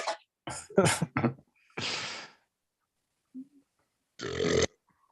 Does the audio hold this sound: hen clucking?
no